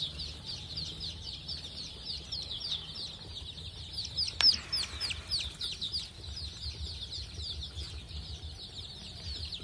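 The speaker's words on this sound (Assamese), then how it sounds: "প্ৰায় 300 লোকেল মুৰ্গী পোৱালি আছে" Around 300 local chicks on a poultry farm chirp steadily in a dense, high-pitched chorus, moderately near, with a brief sharper call partway through and no talk.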